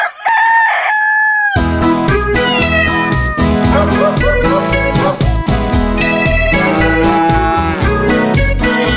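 A cat meows over a loud, busy children's farm-animal song, with music and singing playing throughout.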